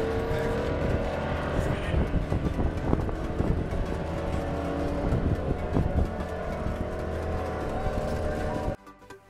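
Loud, continuous engine roar from drag race cars going down the strip, with revving rises and dense mechanical noise throughout, cutting off abruptly near the end.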